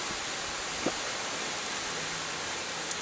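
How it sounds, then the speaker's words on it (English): A Rain Bird 5004 sprinkler head gives a steady, even hiss of water spraying continuously, with a couple of faint clicks, and no voices. "Okay, as you can tell, we got the water to it."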